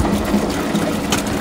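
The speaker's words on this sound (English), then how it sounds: "just taking the opportunity again to fill another barrel. This barrel has got a tap on." Water gushes steadily into a rain barrel fitted with a tap, a continuous close splashing fill with a faint pump-like hum underneath and no voices.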